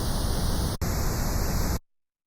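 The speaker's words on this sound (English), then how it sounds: "Pink noise." Pink noise waveform from a Waldorf Quantum synthesizer, a steady broadband hiss held for about a second, briefly cut, then resumed for another second before stopping.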